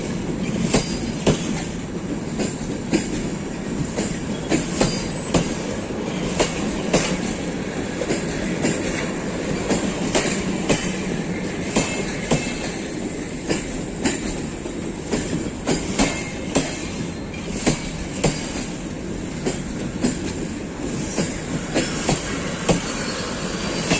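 A long passenger train with eight cars rolls past on a Lower Silesian line, a steady loud rumble broken by rhythmic clickety-clack from the wheels over rail joints, with brief flashes of wheel squeal and no voices.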